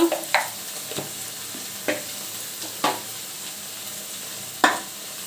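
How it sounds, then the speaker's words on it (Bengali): Ground spice paste and browned onions fry in a pan for a katla fish-head muri ghonto, a steady low sizzle broken by several sharp spoon scrapes and stirs at irregular intervals, heard up close. "এখন দিয়ে দিব এই যে বাটা মশলাটা দিয়ে কষিয়ে দিব"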